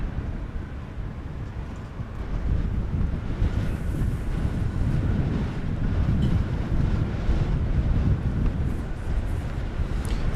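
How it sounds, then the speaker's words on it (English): Strong wind buffets a microphone at an airport at night, a steady, heavy low rumble of gusty blowing that persists loudly throughout, with no voices. "we've got a lot of wind here tonight"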